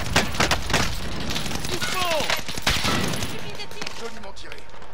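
Loud, close gunfire rings out in an online multiplayer match of Modern Warfare, with sharp bursts of shots and rapid fire packed into the first seconds and sparser cracks later, while a voice talks over the battle.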